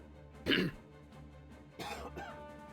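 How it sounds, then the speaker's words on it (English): A man gives two short, rough coughs with throat clearing, close and fairly quiet, about a second apart, over a low background hum. "Sorry guys, I've still got my grotty cough."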